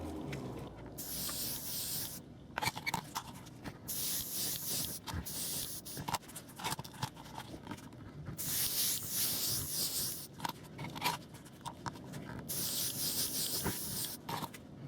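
An airbrush sprays paint in short, repeated hissing bursts while weathering a Warley limited edition model railway wagon, each pass starting and stopping sharply between quieter moments of handling.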